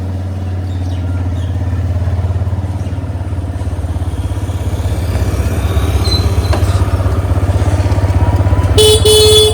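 A motorcycle engine hums steadily and close throughout while being ridden, with a brief horn toot near the end.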